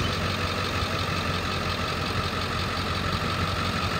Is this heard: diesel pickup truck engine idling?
yes